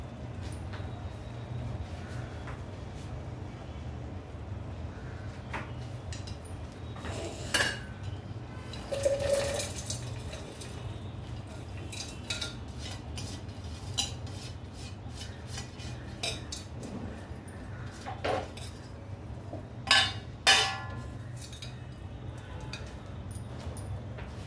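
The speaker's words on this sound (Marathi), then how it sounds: "आपले जे ड्रायफ्रुट्स आहेत ते आपण मिक्सरमधून काढून घेऊया" Ground dry fruits for sugar-free finger millet laddus being scooped out of a mixer jar, giving scattered metallic scrapes and clinks of a spoon against the jar at close range over a steady low background hum, with a few sharper knocks near the end.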